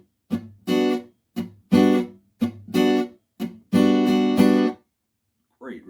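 Acoustic guitar strumming a rhythm, mixing upstrokes, downstrokes and muted chucks in short bursts of sustained chords separated by brief gaps, close and fairly loud with no talking.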